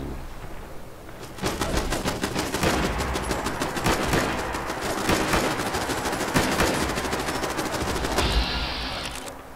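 Fallout 4 settlement turrets open up on a creature, with rapid, evenly spaced machine-gun shots rattling loud and close for several seconds.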